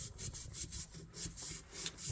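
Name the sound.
sanding knife with 600 grit sandpaper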